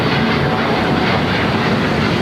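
A Qantas Airbus A350-900 jet passes at LAX, producing a loud, steady broadband roar that holds evenly throughout without fading.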